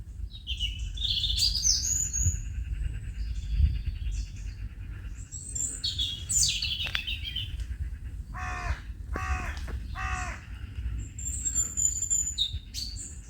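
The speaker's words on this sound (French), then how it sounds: "Même le croassement d'un corbeau est très joli à écouter." Several harsh crow caws ring out over a steady outdoor background, with other birds chirping and tweeting around them at moderate distance.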